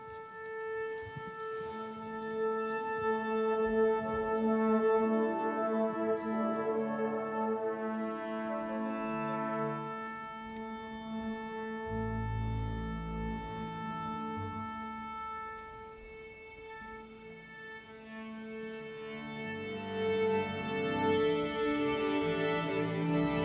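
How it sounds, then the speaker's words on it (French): A symphony orchestra tunes up for a hip-hop symphonic concert, led by the first violin. Sustained tones layer and swell, with low brass notes entering midway, and the sound stays moderate and continuous throughout. "Et qui, comme le veut la tradition, va donc accorder l'orchestre."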